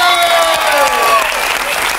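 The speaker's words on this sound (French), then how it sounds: "vous pouvez les applaudir" Studio audience applause on a French talk show, a broad wash of clapping sustained at steady loudness, with tonal musical lines and a voice faintly threaded over the top.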